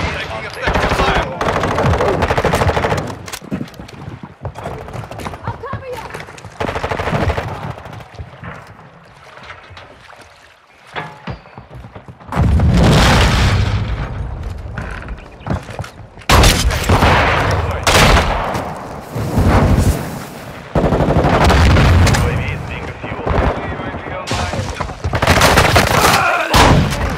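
Gunfire and explosions in Call of Duty: Modern Warfare II, with loud sustained machine-gun bursts, heavy booms and rumbling blasts, a brief lull midway, then renewed intense firing close by, with voices occasionally under the noise.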